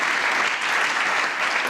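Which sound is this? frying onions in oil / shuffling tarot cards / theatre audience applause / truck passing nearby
theatre audience applause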